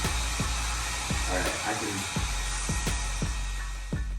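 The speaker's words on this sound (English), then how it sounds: "holding a hairdryer, blowing the water droplets" A handheld hairdryer blows water droplets across a window on a film set, a steady broadband whoosh interrupted by several sharp low thumps at irregular intervals.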